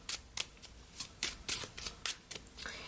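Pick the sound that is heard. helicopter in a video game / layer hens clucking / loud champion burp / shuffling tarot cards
shuffling tarot cards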